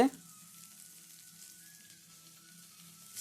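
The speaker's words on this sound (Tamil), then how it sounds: "கருவேப்பிலை சிறிதளவு போட்டு அதையும் வதக்கணும்" Curry leaves sauteing in hot oil for a sweet potato fry, a soft, steady sizzle with a brief louder crackle as they hit the pan at the start and a slight rise at the end.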